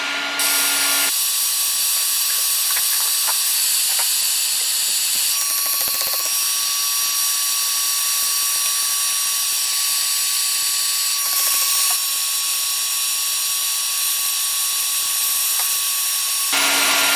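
Hot-air desoldering of components from a circuit board: a steady, loud, high-pitched blowing hiss and whine runs throughout, with a few brief shifts in tone.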